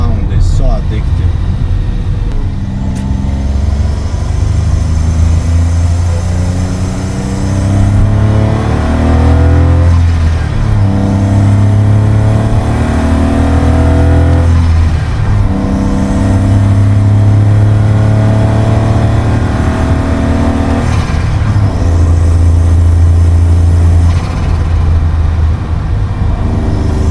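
Engine of a Smart Roadster with a Forge Motorsport silicone TIK pipe fitted: repeated rising revs and gear changes, loud and close, with a steady drone between the pulls and no talk.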